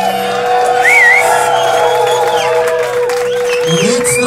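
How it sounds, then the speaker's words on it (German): A concert crowd in a Bern rock club cheers, whoops and applauds a guest musician at a band's farewell show, loud and continuous, with shouts and high whistles rising over a steady roar of clapping. "Applaus für ihn hier."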